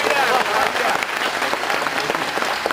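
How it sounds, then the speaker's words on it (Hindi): A seminar audience claps together in a loud, dense burst of applause that carries on steadily throughout, with some voices mixed in beneath the clapping. "तालियां, क्या बात है।"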